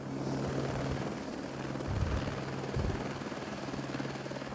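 A helicopter touching down, its engine and rotor producing a steady droning hum with a low throb that swells slightly twice, heard alone at moderate loudness.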